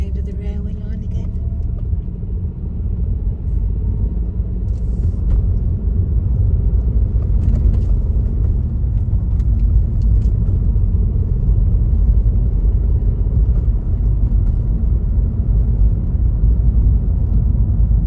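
A car drives over a railway line in the village of Reedham, heard from inside as a loud, steady low road rumble that continues unbroken throughout.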